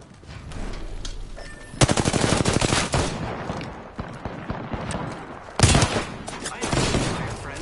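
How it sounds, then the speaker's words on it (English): Gunfire in the battle royale game Apex Legends: rapid automatic bursts crackle close and loud, with quieter scattered shots between the volleys. "Hold up, they're shooting."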